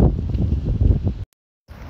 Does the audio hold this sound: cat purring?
no